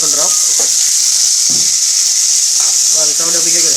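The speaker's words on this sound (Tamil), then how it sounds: "எண்ணெய் ஊற்றி ஃப்ரை பண்ணுறோம்." Onions fry in oil in a pan with a loud, steady, hissing sizzle. A voice talks in short bursts over it.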